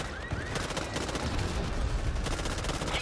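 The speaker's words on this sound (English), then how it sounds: "You bloody shot me!" Rapid bursts of automatic gunfire from the Back 4 Blood video game, dense and steady throughout, with close, loud reports crowding one another and no clear speech over them.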